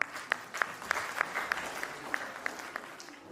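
Audience applause greets a storytelling contestant walking onto the stage at a grand finale competition, a steady patter of many hands with sharper individual claps standing out, moderately loud and without talk.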